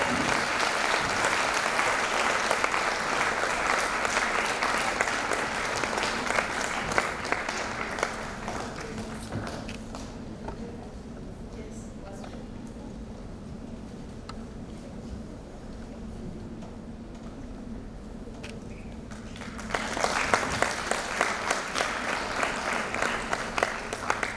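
Prolonged audience applause at a women achievers panel, heavy clapping for about ten seconds, easing to a softer patter, then swelling again near the end.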